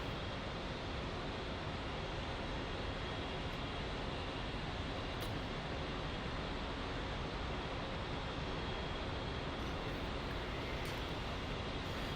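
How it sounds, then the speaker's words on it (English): A jet engine spooling up in the DCS flight simulator, a steady dense broadband roar held at constant loudness throughout, with no talk over it. "go ahead and start your right engine"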